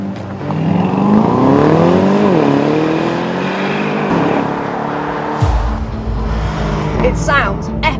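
An Aston Martin DBX707 with its 4.0-litre V8 revs loudly up and down, then lets out a deep rumble, with someone talking excitedly over the engine.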